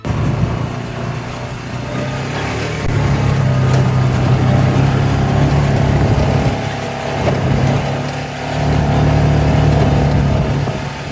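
A rented ATV climbing rough mountain trails, its engine loud and close with a steady mid-pitched drone that rises and falls as the throttle changes, with wind and rumble around it and no talking.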